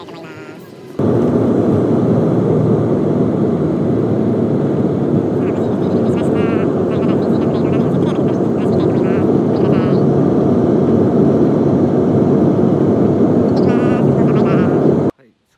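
Steady, loud engine roar and broadband rumble fill an airplane cabin during a one-hour flight to Nagoya Centrair, with faint voices murmuring underneath.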